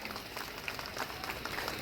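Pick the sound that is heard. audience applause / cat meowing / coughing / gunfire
audience applause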